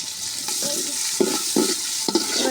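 Garlic cloves and finely chopped onion frying in a pan, with a steady broadband sizzle and a few soft stirring scrapes spaced through it; no talking.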